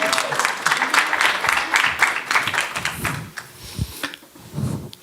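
A small crowd claps to welcome the mayor of Menifee, Bill Zimmerman, at a city community update, an uneven burst of hands close by that thins out toward the end, mixed with some murmuring voices.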